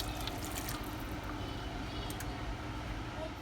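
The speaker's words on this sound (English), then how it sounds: "I'm going to add some more water" Water pours into a pot of rice simmering on a stove with onion and tomato juice, a steady close rushing and splashing stream that runs without a break.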